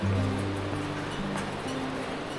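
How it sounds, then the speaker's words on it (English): A river heard from a route near Prakhar Lhakhang in Bumthang, Bhutan, producing a steady, broad rushing wash of water throughout, with a low engine-like hum underneath. "You can hear it, so... Oh, this is the river, huh?"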